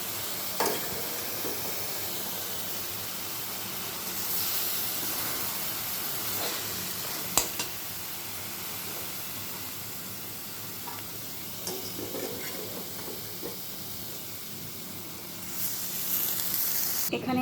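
Paneer cubes sizzle and hiss as they are stirred with boiled potatoes in a hot pan for aloo paneer rasa, a steady frying crackle with occasional scraping stirs, close and moderately loud.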